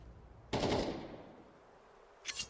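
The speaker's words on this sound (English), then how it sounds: "Now we're finally seeing some gunfights happening." Automatic gunfire in a competitive video game shooter play-off match: a loud burst of rapid shots breaks in, trails off, then a second shorter burst follows near the end, with no talk.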